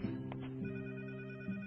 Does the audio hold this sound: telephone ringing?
yes